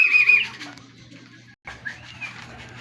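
A racing pigeon coos softly while brief wing flaps flutter nearby as it arrives from a race, with a short gap of quiet before faint calls resume.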